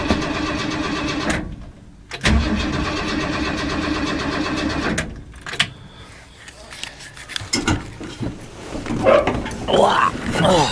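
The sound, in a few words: 1978 Ford Bronco engine cold start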